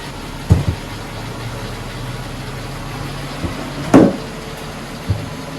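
A 2001 VW Jetta runs at idle as it backs out, a low steady engine hum under a few sharp knocks and clunks, one louder thud near the middle, with no voices.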